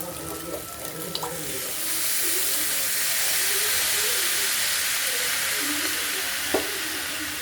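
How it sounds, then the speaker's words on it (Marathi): Water splashed into a hot pan of cooked pasta bursts into a loud, sustained steaming hiss that swells after a couple of seconds of quieter clatter and holds steadily to the end. "थोडंसं याच्यामध्ये आता थोडंसं पाण्याचा शिंतोडा देणार आहे"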